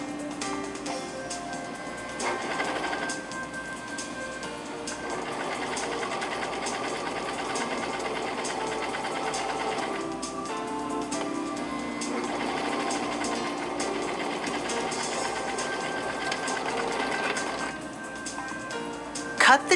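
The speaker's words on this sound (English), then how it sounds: "Serge end to end." A serger stitches folded fabric with a decorative trim and applique end to end, a steady, close mechanical whir that runs almost without a break and eases off in a couple of short dips.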